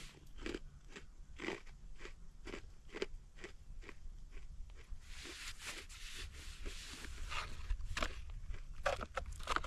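Someone crunches on an MRE honey mustard and onion cracker, a steady run of close, crisp bites and chews repeating about twice a second, getting busier and louder partway through, with no talking.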